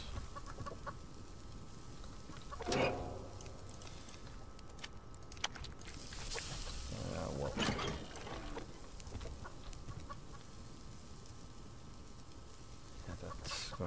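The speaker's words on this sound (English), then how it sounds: "he's clucking because he's afraid of me" A chicken clucks in a few short bursts, fairly close but quiet, with long low background noise between the calls and a little speech.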